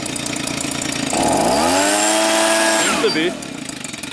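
A Stihl leaf blower's two-stroke engine idles, then surges as the throttle is pulled, holding a high whine for a couple of seconds before dropping back to idle, with a short spoken reply over it.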